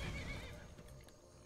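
A horse in the Skyrim video game neighs in a loud, close whinny at the start, trailing off through the rest with faint hoof clatter and game ambience.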